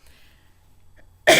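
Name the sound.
cough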